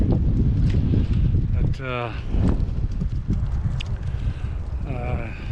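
Wind buffets the microphone during an outdoor e-bike ride, a heavy low rumble that rises and falls, with someone talking over it.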